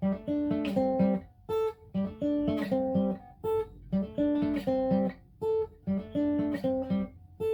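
Clean fingerpicked guitar plays a repeating melodic phrase with quick hammered-on notes over low bass notes, a steady looping pattern heard alone and close.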